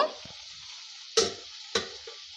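A spoon stirs potato rice in a pressure cooker. Two short, distinct scraping strokes come over a faint steady sizzle, quiet and close.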